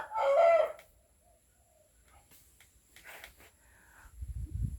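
A fighting rooster lets out one short, loud crow at the start, followed by near silence with faint rustling and a low thump or movement noise at the end.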